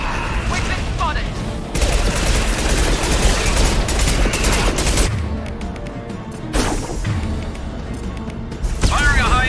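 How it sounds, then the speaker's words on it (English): Weapon fire in the Mass Effect 2 video game: dense bursts of loud gunshots and impacts run almost continuously, with a brief lull and voice-like sounds mixed in among the shooting. "Firing a high impact shot."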